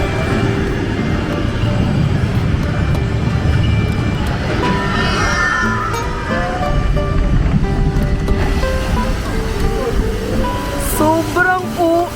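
Water rushes and splashes around an amusement park water ride at Nagashima Spa Land in Japan, a loud continuous wash with a voice heard faintly in the background.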